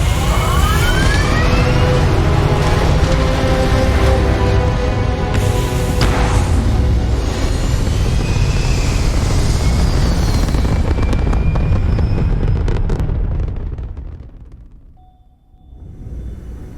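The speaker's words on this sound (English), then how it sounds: "All thrusters firing." Spaceship thrusters firing in Starfield: a loud, steady roaring rumble with hissing and rising whines layered on top, sustained for about thirteen seconds before dropping away and swelling briefly again.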